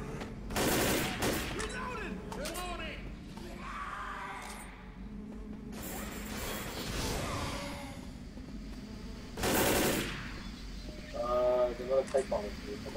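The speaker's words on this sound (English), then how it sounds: "what the fuck's shooting me?" Gunfire in the Left 4 Dead video game strikes the player in a few loud bursts scattered across the scene, mixed with game noise, while a person talks over the action.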